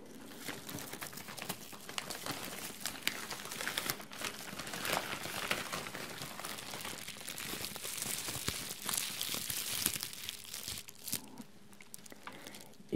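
Bubble wrap holding PS4 games is unwrapped up close, with steady crinkling, crackling and tearing of plastic throughout and no talking.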